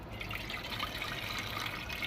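Water pours into a cooking pot, a faint steady splashing trickle that runs without a break and with no talking.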